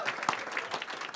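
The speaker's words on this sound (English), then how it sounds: "Young people, give yourselves a hand, please. Adults, applaud with them" An audience applauds young debaters at an urban debate event in Jacksonville, Florida, with a steady patter of hand claps filling the short stretch at moderate volume.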